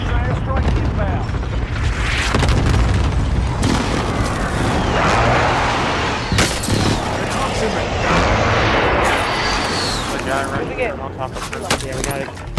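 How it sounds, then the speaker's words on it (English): Heavy precision airstrike explosions in a battle royale shooter, deep rolling booms and blasts layered with scattered gunfire over several seconds, loud and dense, with game voice and player chatter mixed in. "Enemy precision airstrike inbound."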